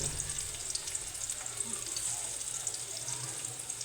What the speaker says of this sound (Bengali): এখানে পেঁয়াজ কুচি দিয়ে দেবো।